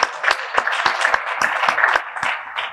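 Scattered hand claps from a small group at a medical association assembly, sharp and fairly even in rhythm, continuing briefly without building into loud applause.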